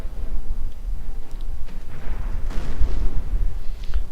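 Mortar rounds in the Company of Heroes video game, fired in a 2v2 match between American and German forces, burst as low, rumbling battlefield explosions over continuous distant combat noise, loud and dense throughout.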